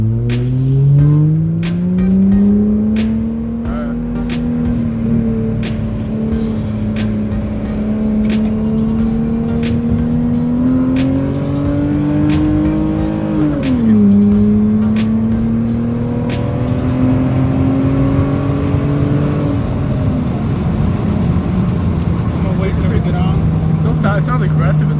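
A Hyundai Tiburon accelerates with a loud, droning exhaust whose pitch climbs steadily, dips, then climbs again over about twenty-five seconds. Sharp ticks and clicks run throughout, and people talk excitedly nearby.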